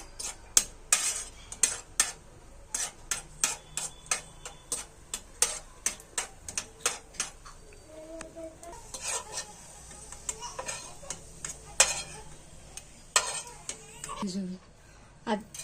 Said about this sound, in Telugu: గోడంబి ద్రాక్ష ఉన్నాయి కదా ఇవి దూరగా వచ్చేంత వరకు వేయించుకుంటున్నా